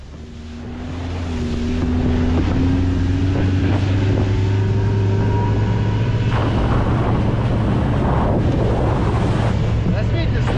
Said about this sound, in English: First-person footage from a Russian ATV vehicle.